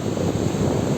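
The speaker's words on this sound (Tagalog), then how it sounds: "Ang lakas ng hangin dito." Strong wind by the Pacific Ocean shore in Lanca, Mati City, buffeting the microphone with a loud, constant low roar and rumble, no voices.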